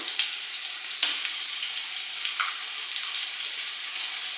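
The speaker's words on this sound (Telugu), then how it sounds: "ఇప్పుడు మనము ఇందులో అల్లం వెల్లుల్లి పేస్ట్ యాడ్ చేసుకుందాం" Ginger garlic paste goes into a pan of sizzling coriander and mint leaves for a 2 kg chicken biryani. The frying hiss is steady and close, with a sharp hit about a second in and small spits after, and no voices.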